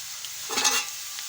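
Garlic hits hot oil in a pan for a lentil dal, giving a brief burst of sizzling and stirring up close, with no talk.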